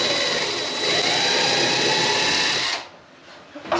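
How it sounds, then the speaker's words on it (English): A power drill bores a small pilot hole while 12 volt lights are installed in a shed, a loud steady high whir for almost three seconds that then stops abruptly, followed by a brief faint clatter. "Just drill a little hole to get it started."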